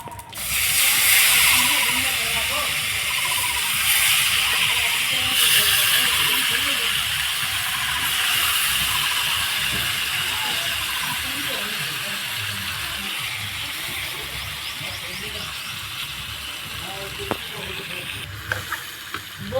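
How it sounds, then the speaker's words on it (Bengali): Chicken meat tipped into hot oil with cumin, bursting into a loud, dense sizzle that starts strong and slowly settles into a steady hiss over about twenty seconds, close up, with a few faint clicks near the end. "ফোড়নে একটু জিরে দিয়ে দিব। মাংস ঢেলে দিব এখন।"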